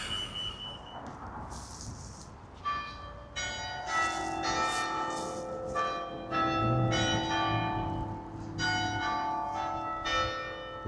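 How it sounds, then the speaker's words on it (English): Church bells ring out over Morpeth town in Northumberland, a series of bright struck peals overlapping in an irregular cascade, moderately near, with lingering hum between strikes and faint street noise beneath. "The bells."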